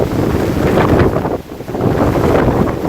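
Strong wind batters a campsite at Hanging Rock in the Blue Mountains, roaring broadband and buffeting the microphone in loud continuous gusts, with a brief lull near the middle before it surges back.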